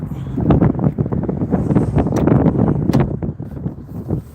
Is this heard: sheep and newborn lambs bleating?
no